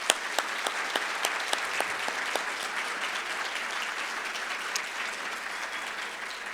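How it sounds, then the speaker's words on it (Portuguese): An audience applauds by acclamation for the Carta de Curitiba at a nature-conservation award ceremony and conference. The clapping is dense and steady throughout, with a few sharper individual claps standing out near the start. "eu peço, por aclamação, uma salva de palmas para a Carta de Curitiba"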